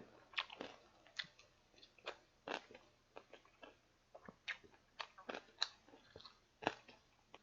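Crunchy chewing and biting on crispy fried Filipino pork lechon kawali, close and fairly quiet, with irregular crackly bites repeating steadily over a faint low hum and no talking.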